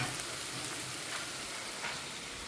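Onions sauté in a pan with a faint, steady low hiss and crackle, no other sounds standing out.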